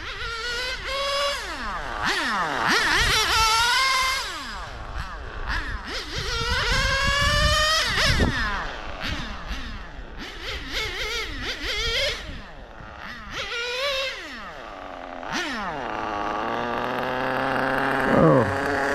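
A small RC car powered by a Sirio S12 Evo3 nitro engine runs laps on a club track, its high buzzing whine rising and falling with repeated revving passes, loud and continuous with no talk.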